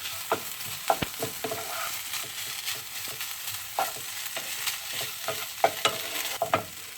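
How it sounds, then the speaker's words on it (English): Rice stir-fried with oyster sauce and thin soy sauce in a pan, with scattered clatter of a spatula stirring and scraping over a steady close sizzle, no voices. "1 teaspoon of oyster sauce, stir in together."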